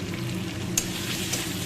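Spice paste frying for a Bombay duck (lute fish) curry gives a brief, steady, close sizzle with a couple of faint utensil clicks.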